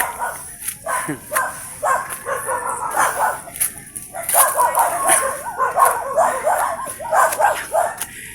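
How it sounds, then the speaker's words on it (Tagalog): Dogs bark and yip repeatedly in the distance over a steady outdoor background, with people talking faintly now and then. "Kasi may ingay mga aso."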